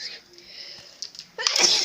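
A person sneezes once near the end, a sudden loud burst after a quieter stretch of low indoor background at night.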